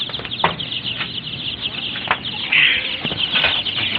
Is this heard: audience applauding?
no